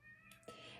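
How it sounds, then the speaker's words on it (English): A house cat meows near a door, two short calls in under a second, the second louder and closer, with steady room hum beneath. "my cat's meowing for me."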